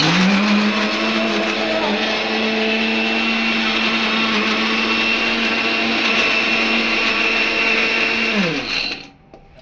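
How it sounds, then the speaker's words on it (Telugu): A mixer grinder blending tomatoes whirs loudly at a steady high speed for several seconds, its motor pitch dropping as it winds down and stops. "టమాటాలు అన్నీ మిక్సీకి వేస్తున్నాను"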